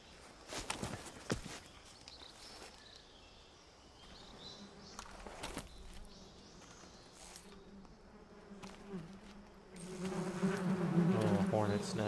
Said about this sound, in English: Oh, hornet's nest.